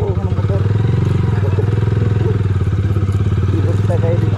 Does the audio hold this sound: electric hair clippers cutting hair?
no